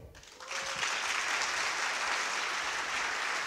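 Audience applause from a crowd at a French-language coaching talk, starting after a brief pause and swelling into steady, dense clapping that holds evenly to the end.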